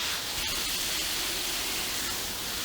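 Water sprays steadily and loudly over potted plants set out in the shade, a continuous hiss that soaks the leaves, unbroken from start to finish.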